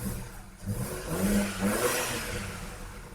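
Turbocharged BMW engine idling and revving close by, a rough, throaty hum that swells briefly in the middle before settling back to a steady run.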